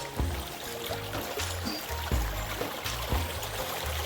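Water runs through a channel cut into a hillside, a continuous trickling and gurgling flow with low splashy pulses that recur every second or so, moderately quiet and unbroken by talk.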